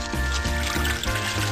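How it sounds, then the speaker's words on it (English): Boiled fiddleheads being strained, cooking water pouring and splashing out in a short continuous gush, close and fairly loud. "So our 10 minutes is up, so what we want to do is strain them."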